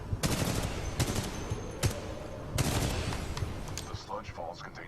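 Weapon fire in the shooter game Titanfall 2 comes in several sharp bursts of shots and blasts, loud and close, with scattered electronic effects trailing off toward the end.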